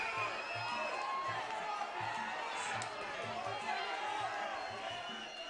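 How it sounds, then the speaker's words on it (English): Spectators roar and cheer throughout a Muay Thai main-event bout, a dense, loud crowd noise with shouts and whoops, steady from start to finish. "The crowd has just erupted, Ryan."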